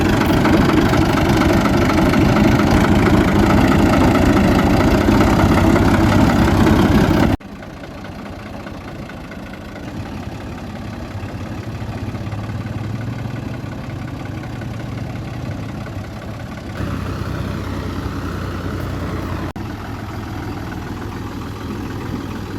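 A scooter engine idles while hitched to a loaded cart, a close and steady running note that is loud for the first seven seconds and then continues more quietly with no talk.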